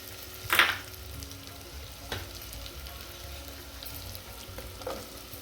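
Mixed vegetables such as cauliflower, carrot and green peas, seasoned with turmeric and garam masala, frying over low heat for veg pulav: a soft, steady sizzle with a couple of brief clanks as they are stirred.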